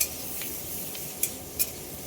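Prawns fry on a high flame with black pepper for chilli prawns, making a continuous close sizzle broken by a few sharp clinks of a stirring utensil against the pan.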